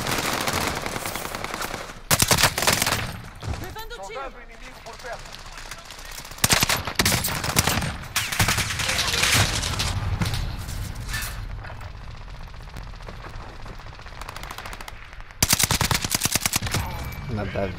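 Call of Duty: Modern Warfare gameplay with repeated bursts of rapid automatic gunfire and single loud shots, separated by brief quieter gaps.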